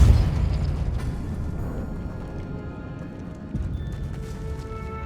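Depulso force spell cast in the video game Hogwarts Legacy, a loud booming burst at the start followed by a rumbling magical decay, with a second thump near the end.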